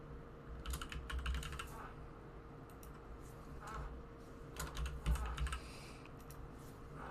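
Quick bursts of typing on a computer keyboard to enter team details into a referee app, soft clustered keystrokes in uneven runs over a steady low background hum, with no voices.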